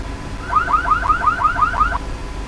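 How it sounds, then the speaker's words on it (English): An alarm from dark fiber optic cable monitoring software gives a rapid warbling electronic tone, about eight quick rising chirps in a row, clear and close, with nothing else over it. "Then this is an alarm."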